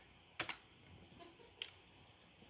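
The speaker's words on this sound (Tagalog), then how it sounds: "Gamitin ko lang keyboard." Computer keyboard typing during a USB multiboot setup: a few sharp, close keystrokes, one quick pair followed by another single tap, isolated over a quiet room background.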